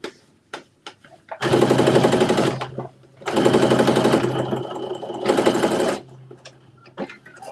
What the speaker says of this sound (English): now I did the top stitching around the armhole of the arm